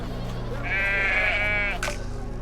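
A goat bleats in the video game I Am Jesus Christ, one wavering bleat in the middle, clear and fairly close over low ambient hum.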